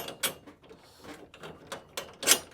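Metal clicks and clunks from a trailer stand mechanism being locked into position on a gutter trailer with a half round machine, several sharp knocks at uneven intervals, the loudest near the end, with no voices.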